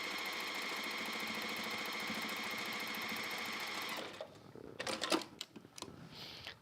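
Sewing machine quilting a scrappy log cabin block, running in a fast continuous whir for about four seconds before stopping, followed by a few quieter clicks and handling noises, with no talk.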